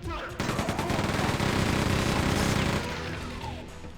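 Chain gun firing continuously in the Quake II 2023 remaster, a dense rapid stream of loud shots that starts abruptly, holds steady for a couple of seconds, then tapers off with lingering echo.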